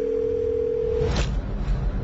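A steady telephone tone sounds alone for about a second and then cuts off, leaving a faint murmur of background noise.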